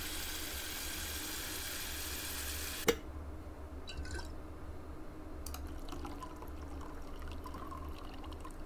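Coffee being made in a video game: a steady liquid pour runs for about three seconds before cutting off abruptly, followed by faint clinks and drips against quiet background.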